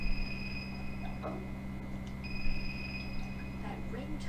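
An electronic phone ringtone from the PS2 game Raw Danger, two steady high tones that cut out briefly and then resume, over a low hum and faint background voices.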